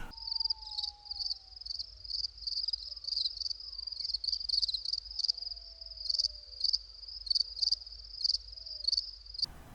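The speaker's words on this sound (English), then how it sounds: "Yeah, crickets." Crickets chirp steadily in rhythmic pulses, dropped in as a comic effect after a scoreless stretch in a football game; a faint whistle-like tone glides downward beneath the steady trilling, with no one talking.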